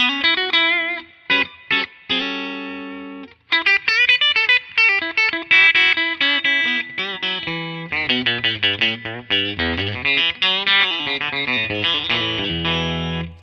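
A Gibson 2014 SG Standard electric guitar with its pickup coil-tapped, played clean in a run of picked notes and chords that grows into quick rhythmic strumming, up close and without any voices.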